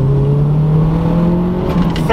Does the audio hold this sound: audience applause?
no